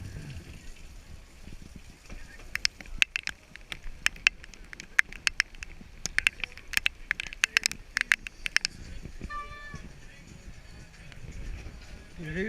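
Rain patters on a wet day along the North Wales coast near a pub entrance, with a run of sharp, irregular drips and taps over a steady damp background hiss.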